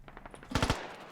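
Gunfire in a Squad tournament match: a few quieter shots, then a sharp, loud burst of three rapid automatic rounds close by, dying away afterward.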